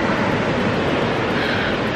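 Ocean waves at a Southern California beach, a loud, steady, broadband wash of surf filling the whole moment with no voices.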